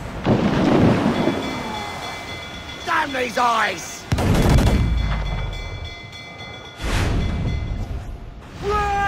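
Heavy cannon broadsides from a pirate ship in a naval battle in Assassin's Creed Black Flag, booming loud and close in several bursts with long rumbling decay, while voices shout over them.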